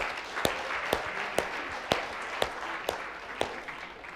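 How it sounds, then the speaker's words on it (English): A class applauds at the end of a university hip-hop course lecture, with about eight sharp claps spaced roughly half a second apart over a broad wash of steady, moderately loud clapping. "Give yourselves a round of applause."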